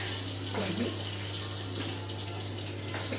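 A hairbrush being washed under a running tap, with a steady close stream of water at even loudness throughout and a faint voice in the background.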